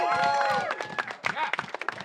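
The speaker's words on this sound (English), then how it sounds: "let's give one more round of applause for all the gals who rode out there in the Tords" An outdoor crowd at a women's freeride mountain bike event in Alaska claps and cheers, with irregular bursts of clapping under a voice speaking over a loudspeaker.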